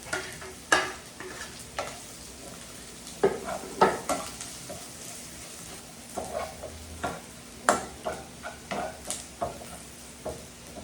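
Onion and chili frying in a pan after browned garlic, for a Filipino sinantolan dish: a continuous sizzle broken by repeated sharp scrapes and knocks of a spatula stirring, close and fairly quiet, with no voices.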